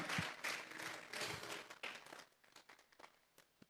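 Church congregation clapping during a Sunday morning service, bursts of applause that start strong and gradually thin out into scattered claps and fade.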